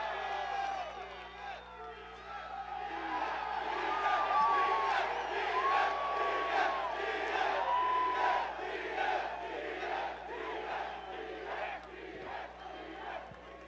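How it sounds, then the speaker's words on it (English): A packed room of fans roars and whoops at the UFC 263 press conference, with loud, swelling cheers and shouted chants rising and falling continuously. "you see this crowd that we haven't had in a long time"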